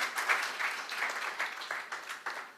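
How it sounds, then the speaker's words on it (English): A round of applause for architects at a public forum on an architects bill, uneven bursts of clapping from a modest audience that rise and dip in waves. "Let's give them a round of applause."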